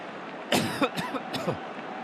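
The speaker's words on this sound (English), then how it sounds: "Pardon me if you got the cough there." Three quick, sharp coughs in succession, loud and close, over a steady background hum from a live football match broadcast.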